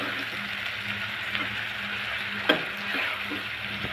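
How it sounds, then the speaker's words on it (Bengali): Bitter gourd pieces stirred and frying with spice paste in oil in a home kitchen pan, a faint continuous sizzle with a single sharp scrape of the spoon partway through. "এখন দিয়ে দিব ধুয়ে রাখা উস্তেগুলো। মশলার সাথে ভালো করে মিশিয়ে নেব।"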